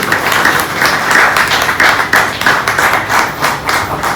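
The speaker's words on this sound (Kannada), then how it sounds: "ಚಪ್ಪಾಳೆ ತರ್ತಿದ್ದೆ, ದೇವರಿಗೆ ಮಹಿಮೆ ಆಗಲಿ." Sustained applause from a church congregation, dense continuous clapping that stays loud and steady throughout with no speech over it.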